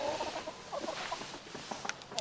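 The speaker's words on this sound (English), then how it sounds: "There's a chicken in there." A chicken in a backyard nesting box clucks in short irregular bursts, close and moderately loud, with a few sharper higher calls near the end and no one talking.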